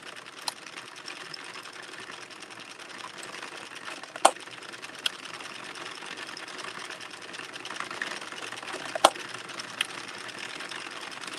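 A circular sock knitting machine is cranked by hand, producing a continuous mechanical clatter and whir with a few sharper clicks standing out, moderately close, without speech.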